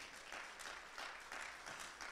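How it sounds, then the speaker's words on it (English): Steady applause from a church congregation during a sermon, many hands clapping together in a dense, continuous patter with slight surges, heard alone without talk. "give a clap offering to the Lord Jesus Christ."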